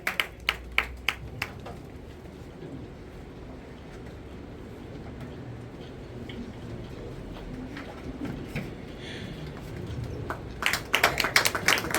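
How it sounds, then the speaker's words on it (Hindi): Claps at an award ceremony: a few sharp, separate handclaps ring out at the start, then a hushed, noisy stretch, before a quicker cluster of loud claps builds near the end. "एक बार जोरदार तालियां हमारे स्वागत के लिए"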